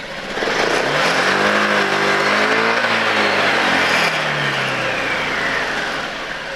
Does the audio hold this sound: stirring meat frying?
no